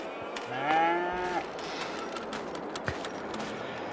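Cattle in a barn in Farming Simulator 22 let out a clear, drawn-out moo near the start, with softer lowing and farm ambience continuing behind it.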